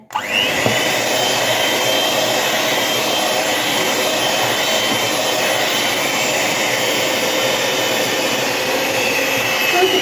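An electric hand mixer with no low speed beats thick honey-roll dough, a loud steady whir that runs unbroken for the whole stretch with no talk over it.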